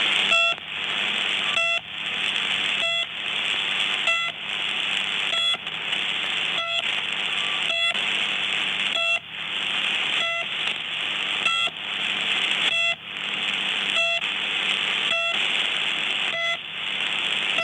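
Short electronic beeps from a shortwave number station repeat at a steady pace, each a clipped tone over a constant hiss of radio static, with brief gaps between them.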